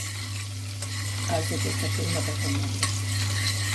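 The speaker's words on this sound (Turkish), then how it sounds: "Şu şekilde ve şu anda karıştırmaya devam ediyoruz" Soaked tarhana soup stirred in a pot over a steady low hum and background sizzle, with a few soft scraping strokes in the middle and faint speech-like sounds in the background.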